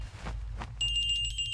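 A telephone rings in a comedy movie scene, a bright continuous electronic trill that begins after a brief low rumble and carries to the end.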